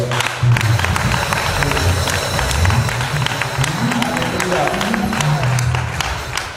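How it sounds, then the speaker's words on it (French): A congregation at a prayer intercession meeting for Benin applauding, continuous dense clapping and crowd noise mixed with music, lively and close for several seconds. "Est-ce qu'on peut applaudir le Seigneur?"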